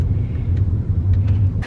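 Steady low engine rumble and road noise of a car driving, heard from the back seat inside the cabin, with a few faint clicks and knocks over the constant hum.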